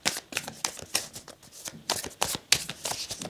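Tarot cards are shuffled up close in a quick, riffling rhythm of soft slaps and flutters, alone and fairly quiet.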